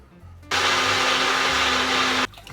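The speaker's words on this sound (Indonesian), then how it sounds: "Pakai blender aja lebih cepat." Electric blender grinds dry roasted spices into powder, a loud steady whir running for under two seconds then stopping, with no talk over it.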